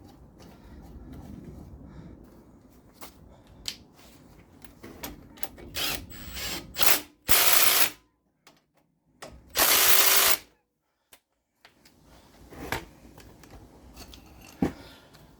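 Ratchet wrench tightening front brake caliper bolts on a 2011 Dodge Grand Caravan: rapid close clicking bursts and metallic clanks, with two loud sustained noisy blasts midway and quieter handling sounds between.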